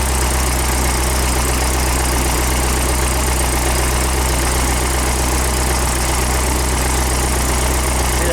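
A car engine idles steadily on oil rated 10W30 synthetic blend, a continuous low rumble with constant vibration and no variation in pitch, close to the microphone and alone, with no talking.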